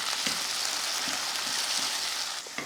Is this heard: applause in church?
no